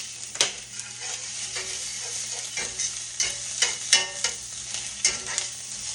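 Egg omelette seasoned with salt and pepper being stirred as it fries in a pan, with a steady close sizzle under a series of sharp scraping clicks from the utensil.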